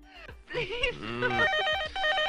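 A telephone bell rings in an old film scene as a colonel calls a soldier back to duty. A brief voice and tones come first, then a rapid, repeating electronic trill fills the rest of the clip at moderate loudness.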